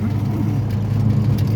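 Steady low rumble of a 1969 Ford Mustang Mach 1 engine accelerating in second gear, loud and close, a thick continuous drone with a faint voice briefly present.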